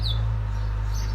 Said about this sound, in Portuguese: Passarinho, sonorização de pássaro.